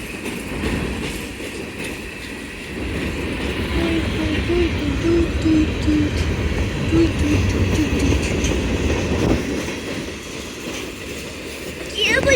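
A four-engine CSX freight train pulls into a station, a loud continuous rumble of engines and rolling railcars with rhythmic wheel clatter and a faint squeal, close by, with people talking at times over it.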